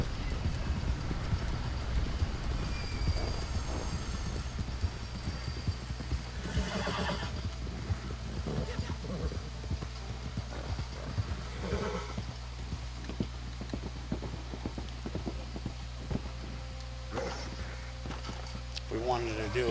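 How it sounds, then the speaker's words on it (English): Thoroughbred horse in the video game Red Dead Online, with rhythmic hoofbeats and occasional whinnies and snorts over a low engine-like game hum, a voice speaking at times throughout. "My horse is a thoroughbred,"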